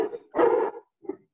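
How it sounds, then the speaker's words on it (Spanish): A dog gives a few short barks and yips nearby. The sharp bursts have brief gaps between them and no talking is heard. "Hay un perro y todo ahí ladrando."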